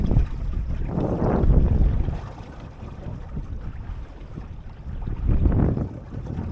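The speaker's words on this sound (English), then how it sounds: "Just listen to that lovely gurgling sound." Water rushes and gurgles along a sailing dinghy's hull, swelling in two louder surges, with wind buffeting the microphone throughout.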